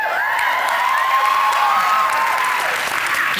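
Television talk show studio audience applauding and cheering, a dense, loud wash of clapping with whoops and a few voices rising above it.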